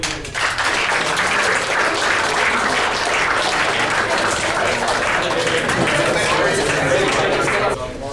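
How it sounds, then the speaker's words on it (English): Loud applause fills a school club meeting, many people clapping together in a dense, even burst for several seconds, mixed with crowd chatter before it tapers off at the end. "Hey, let's clap it up."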